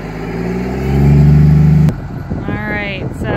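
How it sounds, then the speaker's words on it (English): A Case MX255 farm tractor in muddy field revs hard, engine roar climbing and holding loud before cutting off abruptly, followed by quieter rumble and a voice talking. "this is the tractor that we're gonna use to attempt to get us unstuck"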